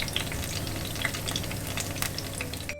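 Salmon fritters sizzle steadily in a hot pan, a close, constant crackling fry with small pops and spits throughout and no talking.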